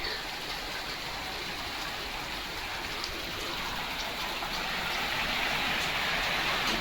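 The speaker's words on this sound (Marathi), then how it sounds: "मध्येच पाऊस यायला लागला" Steady rain falling outdoors, a dense even hiss of drops hitting surfaces that stays constant and fairly close throughout, with no voices over it.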